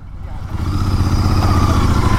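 A Kawasaki Z650 motorcycle engine drones steadily and loudly while riding, its low rumble building slightly after the first half second.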